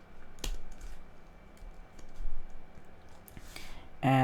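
Close computer keyboard typing while writing C# code, a few scattered clicks and key taps over a low background hum, with no talking.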